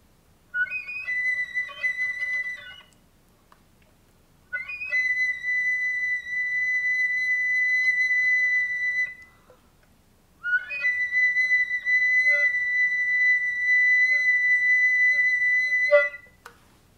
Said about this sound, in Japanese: ホイッスルトーン、どんな音がするか、まずちょっと私がデモンストレーションしてみますね。